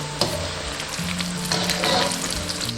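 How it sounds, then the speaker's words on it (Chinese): Eggplant deep-frying in plenty of very hot oil in a wok, a steady loud bubbling sizzle with crackles and occasional stirring knocks, close and alone without talk. "就可以下入茄子炸"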